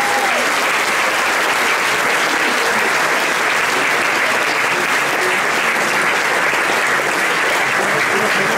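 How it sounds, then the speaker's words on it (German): A concert audience at a brass band performance gives sustained, loud applause, a dense unbroken clapping that carries evenly throughout. "Und dafür bitte einen riesen Applaus für uns"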